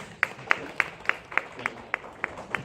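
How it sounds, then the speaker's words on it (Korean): Steady rhythmic handclaps from an audience at a writing lecture, about nine crisp evenly spaced claps with a quiet room between them. "여러분 박수 한번 하면"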